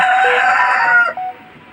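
A tiger breed rooster, one of the vaccinated laying parent stock in Tangail, crows loudly and close in one long sustained call that cuts off sharply near the end.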